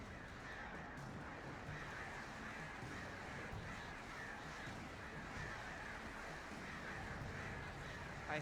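Crows caw faintly and repeatedly over a low, hissy background in the video game Alan Wake Remastered, with no voices.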